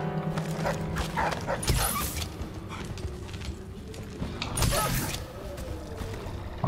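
Dogs in the game Dishonored make quiet whimpers and low barks. Mechanical creaks and game ambience play under them, with a couple of louder bursts partway through.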